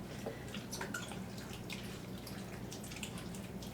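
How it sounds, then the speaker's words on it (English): A can of thick cream style corn is poured into a pot for a Tex-Mex tamale pie filling, giving a steady close-up wet glopping and dripping sound that runs the whole time. "I'm going to add 1 can of cream style corn"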